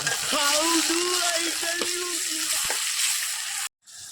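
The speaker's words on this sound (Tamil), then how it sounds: "அப்படியே வெங்காயம் எல்லாம் நல்லா வதக்கிக்கலாங்க" Onions sizzling and frying in a pan for a pork curry, a steady crackling hiss with faint stirring scrapes and a brief clatter near the end, loud and close before cutting out.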